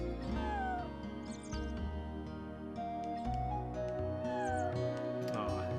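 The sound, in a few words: cat meowing in Chrono Cross video game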